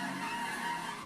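A race car's tires skid and squeal in a continuous hiss as it spins 180 degrees on a wet track during June sprint racing, loud and close for about a second.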